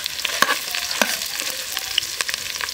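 Garlic, shallots and dried red chillies crackle and sizzle in a hot pan, with scattered sharp pops and a few scraping stirs, close and fairly soft.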